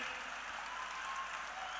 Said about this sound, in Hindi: आप सब अपने लिए एक बार बहुत जोरदार तालियां बजाएं आप लोग, और तेज तालियां